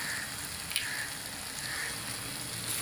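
Chicken marinated in salt and turmeric powder frying in a pan, a soft continuous crackling sizzle at low level with faint pops, steady throughout and with no voices.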